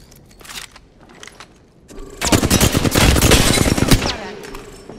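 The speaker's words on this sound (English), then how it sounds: "Opening fire." Rapid automatic gunfire in a first-person shooter game, a sustained loud burst of closely spaced shots following quieter scattered sounds, with no talking.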